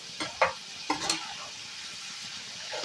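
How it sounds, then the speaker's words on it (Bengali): Poppy seeds hit hot oil in a pan and set off a steady, soft sizzle, broken early by a few sharper crackles and stirring scrapes. "তার জন্য আমি এই গরম তেলে অল্প করে পোস্ত দিয়ে দিয়েছি।"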